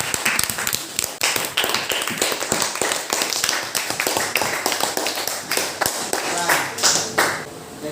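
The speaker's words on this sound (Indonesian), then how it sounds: "Tepuk tangan untuk kelompok 2." A classroom of students claps for a group, a fairly close, uneven patter of individual hand claps with rhythmic bursts lasting several seconds, some voices faint underneath.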